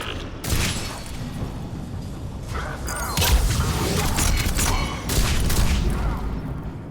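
The chakram launcher in the video game Mass Effect 3 fires amid dense combat noise, with booming discharges and whooshing impacts in a loud, continuous barrage.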